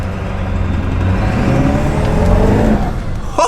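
A tuned Ford F350 Powerstroke diesel truck from the OBS era, running a 65 horsepower tune, roars under hard acceleration. The engine note is loud, close and continuous and rises steadily in pitch.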